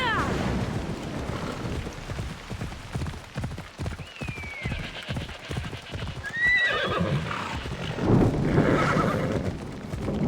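Horse hooves clip-clop in a steady, even rhythm in Assassin's Creed Odyssey, with a couple of neighs partway through over soft wind and background noise.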